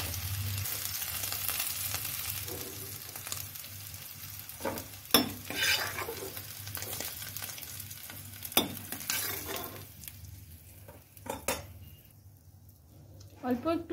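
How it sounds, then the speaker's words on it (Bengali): Potatoes fry in oil with a soft, ongoing sizzle punctuated by a few sharp clinks and stirs, while someone talks over the cooking. "আলুটাকে ফ্রাই করে নামিয়ে নেব।"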